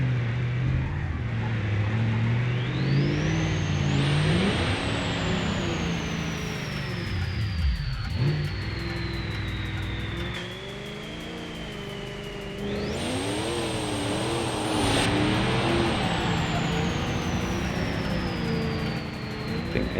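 A Roamer four-wheel-drive car engine in BeamNG, droning steadily and loudly throughout, with rising and falling revs, a dip to a low growl midway, then climbing again to a high whine.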